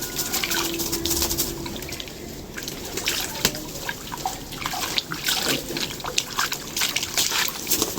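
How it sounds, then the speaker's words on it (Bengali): Water splashes and trickles close by in steady, uneven sloshing as a pigeon feather is dipped and soaked, with faint clatter mixed in. "পালকটা ভিজিয়ে নিতে হবে জলে"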